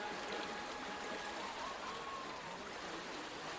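Water of the Mandakini river streams and trickles steadily at Janki Kund in the Chitrakoot forest, a continuous broadband wash with no talk over it.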